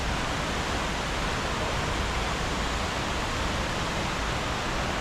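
Buruwisan Falls on Mt. Romelo rushing in a steady, dense broadband roar that stays loud and unbroken throughout, with no voices audible over the water.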